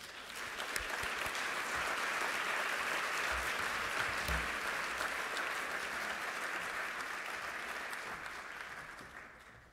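Audience applause welcoming community organizer Marshall Ganz to the stage at a talk on community organizing: steady, full clapping from a sizable crowd, holding even for nearly ten seconds before tapering off.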